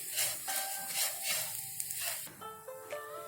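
Ajwain fry with crushed chilli sizzles in a pan as it is stirred, a soft steady frying hiss with scraping strokes close by, and no talk.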